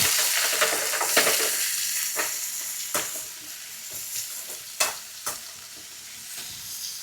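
Green chillies and shallots sauté in a hot pan with a steady sizzle, and a spoon stirs and clacks against the pan every second or so.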